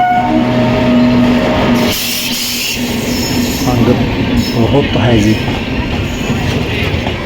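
Loud rumble of a train pulling into a railway station, with tonal horn or brake whine, and someone speaking briefly amid crowd noise.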